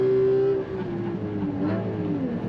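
A Honda S2000 race car's engine drones steadily at high revs on a circuit, pitch sliding slightly as the driver works through the gears, loud and continuous from the cockpit with no talking.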